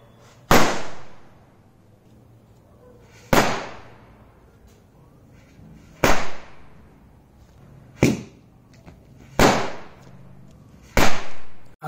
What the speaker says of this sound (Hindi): कुछ इस प्रकार के बिजली क्रैकर रहते हैं